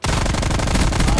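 Rapid gunfire bursts crack repeatedly in a video game, loud and close, a quick rattling string of shots over about a second.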